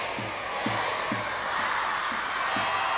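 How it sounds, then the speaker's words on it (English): Field hockey crowd at a Great Britain v South Korea international counts down toward the end of the first half, six rhythmic chanted calls roughly half a second apart over a steady roar of stadium noise. "You can hear the countdown from the crowd"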